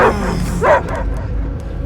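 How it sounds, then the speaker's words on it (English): Cosmo, a dog in the Guardians of the Galaxy video game, gives a couple of short, close yelping barks over a low, steady game rumble. "I hear only barking"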